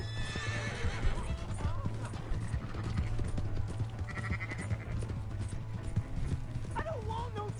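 Horses neigh and whinny over clip-clopping hooves in a Red Dead Redemption 2 scene, with shouting voices mixed in and a low steady drone underneath.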